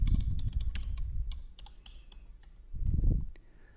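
Typing on a computer keyboard while entering details into a library lending program: quick, irregular close-up key taps with a low thumping base, some brief pauses, no talking.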